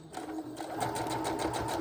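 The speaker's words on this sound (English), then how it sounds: "We're moving right on over to the sewing machine" A sewing machine stitches a quarter-inch seam on quilt fabric, a fast, even, close mechanical whir with rapid needle ticks running steadily after a brief start.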